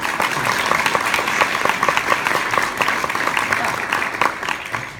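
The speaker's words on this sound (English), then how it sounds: "I wish you were applauding because I was done." An audience at an inspirational conference event claps together, a dense continuous patter of applause holding steady and fairly loud, tapering slightly at the end.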